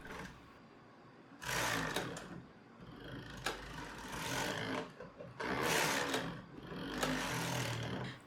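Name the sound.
Brother knitting machine running after sponge bar replacement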